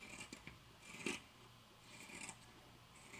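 Scissors trim sewn fabric for a tie headband, making soft close snipping and rustling sounds, faint and repeated in short strokes.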